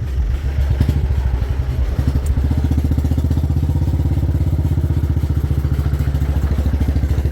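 An engine running at an old site in a Punjab village, heard up close as a steady, rapid thumping putter with a constant rhythm and a little clatter, with no one speaking over it.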